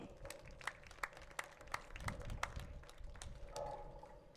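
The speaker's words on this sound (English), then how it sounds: "Give a big round of applause" Sparse, faint applause from a small crowd at a girls' high school soccer game, scattered individual claps that rise into a brief cluster before fading.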